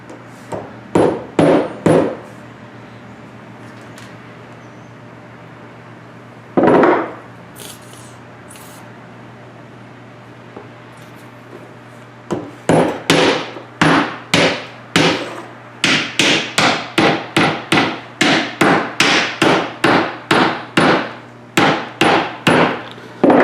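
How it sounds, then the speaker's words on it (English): A big sledgehammer drives glued wooden pegs into a Viking block rim: a few loud, sharp blows, a single strike after a pause, then a long rapid run of close, ringing hits. "We got a big sledgehammer, makes it easier."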